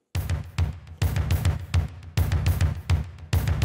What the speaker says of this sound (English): I took this live drum performance of mine and used the room mic